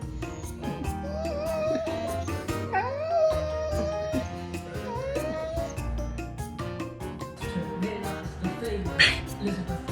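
A husky howls and whimpers in a long, wavering run of high, pitch-bending cries, with short yips and noisy clatter mixed in, loud and close throughout.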